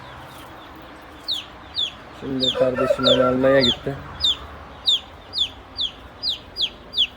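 A turkey chick that has strayed from its mother keeps up a run of shrill, falling peeps, about a dozen in regular succession, nearby and loud; someone talks briefly over the early calls.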